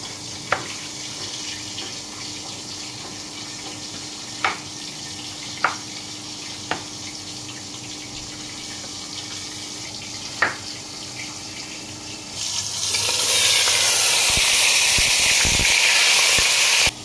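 Scented short-grain Gobindobhog rice is washed in a kitchen while tap water gushes loud and steady, starting abruptly after a quiet stretch of a few small clicks and taps.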